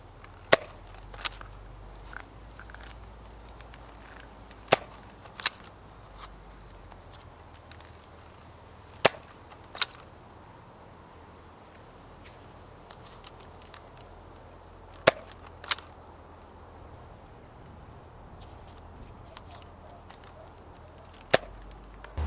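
A Nerf Elite Firestrike blaster fires foam darts in a series of sharp, sparse snaps spaced a few seconds apart, each a crisp isolated pop over low background noise.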